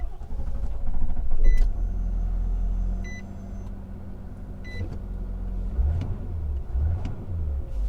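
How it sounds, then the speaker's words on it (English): Push-button start of a 2019 Nissan Titan XD diesel pickup: a few faint electronic chimes and clicks, then the starter cranks and the engine catches and settles into a low, steady idle rumble, with no talk. "I'm gonna go ahead and start the truck. You have a push button start."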